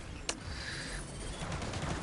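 Fireworks in the video game Risk of Rain 2, a sharp pop followed by crackling bursts and rumble, moderately quiet amid game noise without speech.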